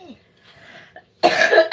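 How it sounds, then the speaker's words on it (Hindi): A couple of harsh, close coughs burst out after a quiet stretch, one long rasping cough followed by a shorter one. "भैया आज बहुत खांसी आवे लाग"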